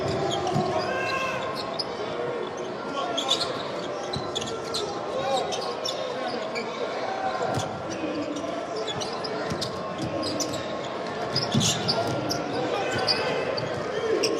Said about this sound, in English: It was the ball hitting the possession light on the scorer's table.